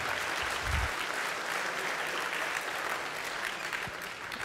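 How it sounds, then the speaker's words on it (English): A conference audience at the FOSDEM 2013 closing session claps loudly and steadily, a dense, even wash of applause that holds its level from start to finish, with no voices standing out. "so give yourself a big round of applause"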